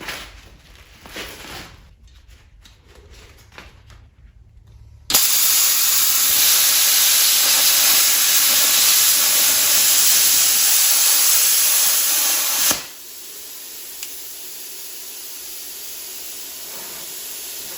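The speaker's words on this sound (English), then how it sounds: "that was my very first cut with a plasma cutter" A Lotos LTP5500D digital plasma cutter running at 40 amps and 50 psi air cuts metal, a loud steady roaring hiss that starts abruptly and holds for about seven seconds before cutting off, with quieter handling noise before and a faint hum after.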